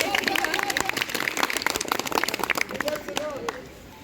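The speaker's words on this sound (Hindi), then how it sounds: "ताली बजाओ इसके लिए।" Classroom applause for a student, many hands clapping in a lively, uneven patter that tapers off toward the end, with voices mixed in.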